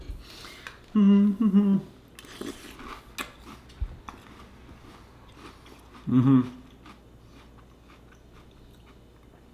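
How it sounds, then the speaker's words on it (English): Crunchy Eggo cereal in milk, maple and blueberry flavored, is bitten and chewed close up in a few short bursts. Voiced sounds come in two strong bursts, with quiet stretches between them. "the cereal gets a little bit soggier, but it still retains that crunch"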